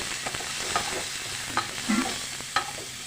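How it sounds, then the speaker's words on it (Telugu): Curry leaves, turmeric and chopped onion fry in oil for onion pickle: a steady close sizzle with light intermittent stirring clicks and scrapes against the pan, no one speaking. "కరివేపాకు కొంచెం పసుపు ఫ్రై చేయండి"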